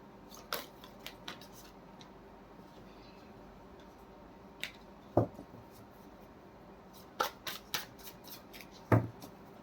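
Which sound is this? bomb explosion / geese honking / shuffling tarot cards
shuffling tarot cards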